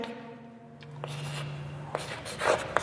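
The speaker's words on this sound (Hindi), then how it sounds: "तो यहां लिखता हूं मैं" Marker or chalk writing on a board during a Hindi-language biology lesson on flowering plant reproduction, with brief scratchy strokes that come in scattered bursts, close and moderately loud against a quiet room.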